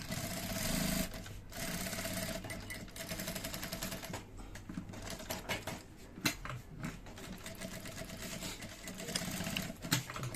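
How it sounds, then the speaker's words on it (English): A sewing machine stitches the seam of a V-neck notch collar in close, loud bursts of rapid needle chatter separated by short pauses and clicks. "So we'll now sew from here."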